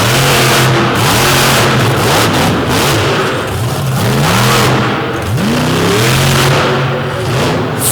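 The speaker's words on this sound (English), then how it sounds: "see Rod Schmidt out of Charles City, Iowa in the big black Chevrolet Redneck Rampage, the Patrick chassis machine." The big black Chevrolet Redneck Rampage monster truck on a Patrick chassis revs hard at a show in Madison, its loud engine rising and falling in repeated sweeping bursts, close and unbroken, with no voices over it.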